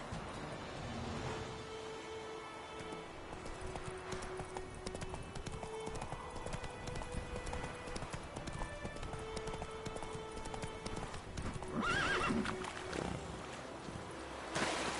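Roach, a horse in The Witcher 3, trots with continuous clip-clop hoofbeats under in-game ambience and a whinnying neigh about three quarters of the way through.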